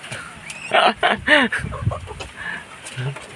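A pure white Kelso rooster clucks and calls close by in a farmyard, giving a few sharp bursts, with people talking faintly in the background.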